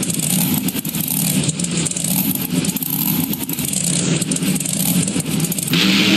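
Monster trucks in BeamNG Drive roar and rev continuously, a loud, dense engine drone with crashing impacts, close and unbroken throughout with no talk.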